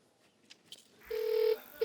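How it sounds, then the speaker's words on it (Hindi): Two steady touch-tone beeps from a phone being dialed, each held about half a second with a short gap between them, clear and close after a few faint clicks. "एक मिनट, फोन लगाओ, दोबारा लगा।"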